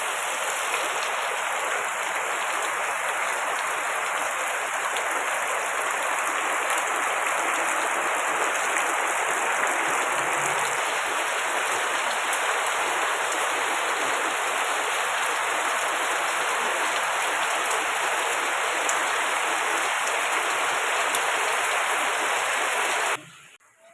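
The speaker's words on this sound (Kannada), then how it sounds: "ಹೊರಗಡೆ ನೋಡಿದರೆ ಜೋರಾಗಿ ಮಳೆ ಬರ್ತಾ ಉಂಟು. ಎಷ್ಟು ಜೋರು ಅಂದರೆ ಗಾಳಿ ಮಳೆ ಎಲ್ಲ ಒಟ್ಟಿಗೆ ಬರ್ತಾ ಉಂಟು." Heavy rain driven by wind pours outside in a dense, constant hiss. The loud, unbroken roar of downpour lasts nearly the whole time, then cuts off abruptly at the end.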